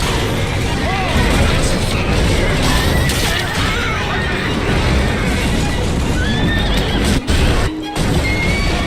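Horse-drawn carriages smash and crash in the Victorian London streets of Assassin's Creed Syndicate, with loud whinnying horses, clattering hooves and dense mechanical din filling the scene alongside speech.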